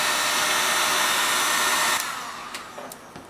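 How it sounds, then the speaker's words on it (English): A heat tool blows steadily on gold-flecked embossing enamel, a loud continuous close whoosh that eases off near the end, with a few faint clicks. "the more that you use your heat tool on this embossing enamel"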